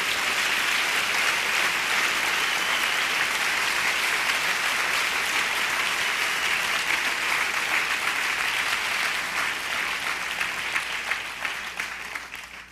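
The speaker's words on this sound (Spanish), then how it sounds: "Dele un fuerte aplauso a Cristo Jesús." A church congregation claps loudly and steadily in sustained applause for Christ, a dense wash of hands that holds for most of the stretch before gradually thinning toward the end.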